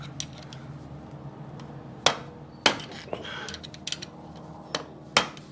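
Sharp metal hammer strikes during kick-starter and clutch repair on a 1973 ATMX motorcycle, several loud isolated blows spread irregularly over a few seconds with quieter taps and clinks in between.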